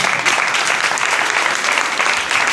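A church audience breaks into dense, sustained applause, many hands clapping together in a steady, full roar with no pauses.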